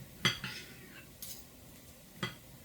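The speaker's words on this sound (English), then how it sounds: "Okay, now I'm going to cut this meat up." A fork clinks three times against a dish while cutting up beef bone soup meat among cabbage, noodles and taro; the light metallic taps are quiet and spaced apart, with a faint background hum and no talking.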